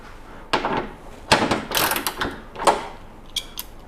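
A wrench works loose small 10mm nuts in several short bursts of metallic clicking and ratcheting, close and fairly loud, separated by brief pauses.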